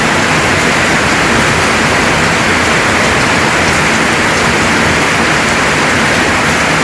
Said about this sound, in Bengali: বৃষ্টি অজরে চলতেই আছে, খুব বৃষ্টি আজকে।